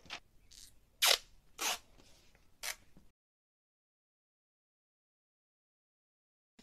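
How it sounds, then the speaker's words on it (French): A piece of adhesive tape being pulled and torn while sewing a Christmas dress, several short close crackling rips in quick succession, then silence. "je vais mettre un morceau de scotch"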